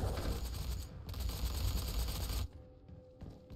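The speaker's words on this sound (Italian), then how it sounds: "Sentivo degli spari, deve esserci qualcuno." Dense, rapid bursts of gunfire in a Doom multiplayer match fill the first two and a half seconds, then the shooting stops abruptly, leaving quieter scattered noises.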